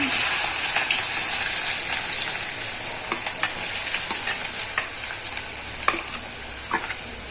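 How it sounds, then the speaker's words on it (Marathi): Onion fries in hot oil with cumin and mustard seeds, giving a steady, close sizzle broken by scattered crackles and occasional clicks from stirring, with no talking. "कांद्याला हलकं ब्राऊन होईपर्यंत भाजायचं"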